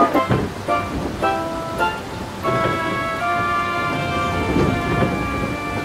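Steady rain falls on surfaces while thunder rumbles, with a couple of sharp cracks early on, and sustained tonal music plays over the storm.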